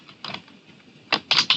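Computer keyboard typing in short clustered bursts, entering a file name: a brief flurry of keystrokes, a pause, then two louder clusters close by.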